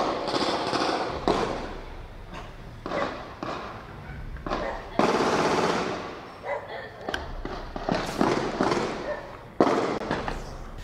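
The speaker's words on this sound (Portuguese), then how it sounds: "Um áudio enviado por alguns moradores mostra um intenso tiroteio." An intense shootout between armed gangs in the Novo Amparo residential neighbourhood, recorded by residents, comes through as a dense run of sharp cracks and booming reports, some in rapid clusters, loud and echoing over about eleven seconds, with a dog barking amid the shots.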